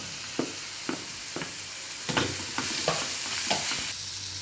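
Onion, carrot and capsicum stir-fry in a pan for street-style veg rolls, a constant sizzle broken by crisp, regular scraping strokes of a spatula, close and clear with no talking.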